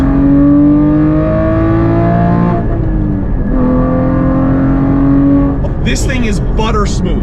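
A Porsche GT4 engine revs loudly and continuously, its pitch climbing, dipping between shifts with auto rev matching blips, then rising again, heard from inside the car with road and cabin noise throughout.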